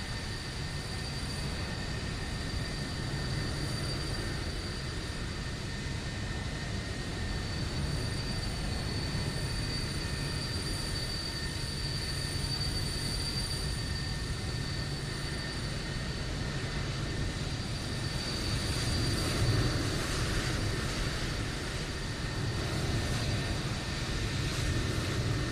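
An Airbus A320 airliner takes off in Microsoft Flight Simulator 2024, a steady jet engine roar with a constant whine running evenly throughout, with no voices.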